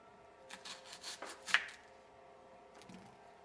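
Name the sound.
slicing half an onion into pieces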